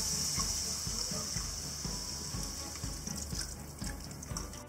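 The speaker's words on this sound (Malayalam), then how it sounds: "ഇനി ഇതിലേക്ക് അളന്നെടുത്ത് വെച്ചിട്ടുള്ള 2 കപ്പ് പാല് ചേർക്കാം" Two cups of milk pour into a pan of carrots for carrot halwa, a soft continuous liquid splash and trickle heard up close with a faint kitchen hum.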